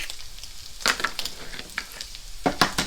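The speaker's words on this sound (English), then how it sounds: "My sausage is browning up nicely with my onions in there." Sausage and onions frying in a pan at a camping breakfast, a soft sizzle broken by a few crisp crackling bursts and light stirring, close up without speech.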